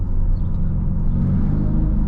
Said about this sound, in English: I mean, it feels like there's an exhaust under the vehicle.